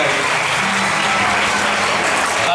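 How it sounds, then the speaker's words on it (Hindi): Audience applause at a general knowledge quiz contest: dense, steady, loud clapping filling the whole stretch without a break. "तो उस हिसाब से ताली बजाइए कि"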